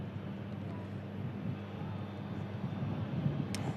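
An Airbus A220 taxiing across an active runway, heard as a low, steady engine rumble at a distance, fairly faint and unbroken.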